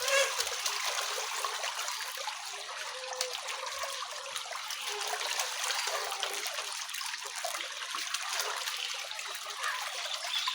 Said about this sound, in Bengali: দেখেন পাঙ্গাস মাছগুলো খাবার খাওয়ার জন্য কীরকম করতেছে।